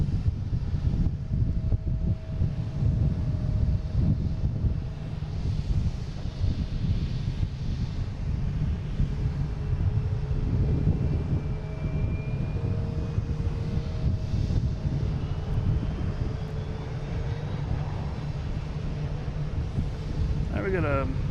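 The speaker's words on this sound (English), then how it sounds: "for now, we have Delta coming in from Cincinnati" A Delta airliner arriving at Boston Logan from Cincinnati, a broad distant jet roar swelling and fading under gusty wind noise on the microphone, with a brief higher whine trailing late.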